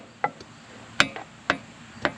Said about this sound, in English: we'll just peck this off this shaft, gently pecking it. And like I said, I'm using a brass hammer